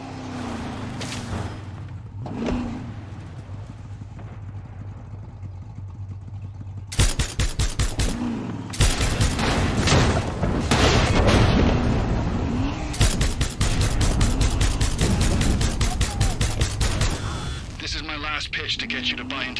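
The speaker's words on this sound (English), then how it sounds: "Dani, people are shooting up the big fuel tanks near you." Gunfire and explosions near large fuel tanks in the video game Far Cry 6, bursts of rapid shots and heavy blasts firing steadily for several seconds after a calmer start, with people talking over the action.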